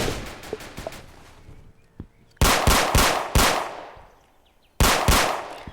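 Gunfire rings out in the Roblox game Emergency Hamburg, starting with a rapid run of light shots, then a few loud, booming blasts spaced apart, each trailing off into a decaying echo.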